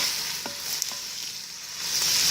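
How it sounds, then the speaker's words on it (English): Green beans sautéing in a Ninja Foodi, a close, steady hiss and sizzle with a couple of faint utensil taps early on, growing slightly louder toward the end. "Now we're just going to sauté them up"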